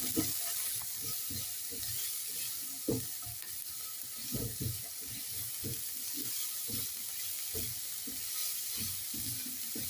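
Carrots, tomato and capsicum sizzle in a wok while a spatula stirs them in quick irregular scrapes and knocks, a close, fairly quiet frying hiss running underneath.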